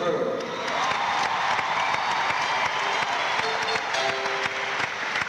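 Concert audience applauding the road crew at a show in Evansville, 1997, a dense, steady wash of clapping with scattered cheers from a large crowd filling the whole stretch.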